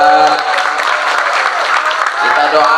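Applause for a preacher from a mosque congregation at a religious gathering, steady loud clapping that lasts throughout with a voice speaking over it.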